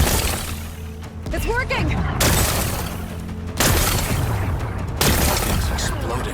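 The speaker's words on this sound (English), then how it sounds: "Gotta blast away some rocks, so I can expose the power cell." Rocks blasted apart by repeated explosive bursts in Horizon Forbidden West, three or four loud booming cracks with crumbling debris, a voice speaking between them.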